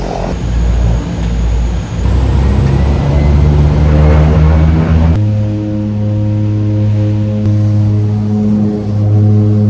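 A loud propeller aircraft engine runs up, its low droning hum shifting pitch and steadying as it gains power, with no voices.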